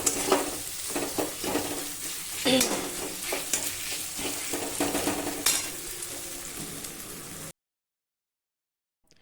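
Bengali chicken kosha spice masala sautéing in a pan, a steady close sizzle broken by scraping stir strokes for about seven seconds, then cutting to silence.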